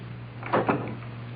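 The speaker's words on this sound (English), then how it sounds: "Close the door, Carl." A door closing in a radio drama, heard as two quick, close wooden knocks of the shutting door over a steady low room hum, with no voices.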